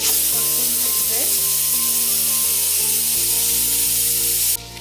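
Garlic and ginger sizzling steadily in hot oil while frying for a chole masala gravy, a constant close hiss with faint stirring sounds throughout.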